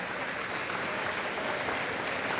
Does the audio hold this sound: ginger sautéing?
no